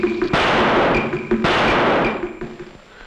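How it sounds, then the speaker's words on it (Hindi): Two heavy gunshots boom close and loud, each leaving a short rumbling echo, with a softer thump trailing off afterward. "ये तो गोली चलने की आवाज थी।"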